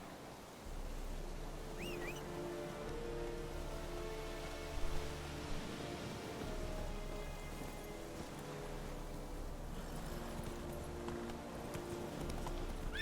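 Roach the horse trots in the video game Witcher 3, a steady rhythmic clip-clop of hooves carrying on throughout over a low ambient game backdrop.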